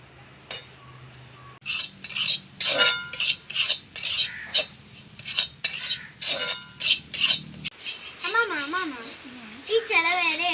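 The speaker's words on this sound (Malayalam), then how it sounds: "ഇനി നമുക്ക് തേങ്ങ വറുത്തെടുക്കാം." A spatula stirs and scrapes grated coconut roasting in a pan for a theeyal curry, making a quick, uneven run of clinks and scrapes close by. Voices can be heard near the end.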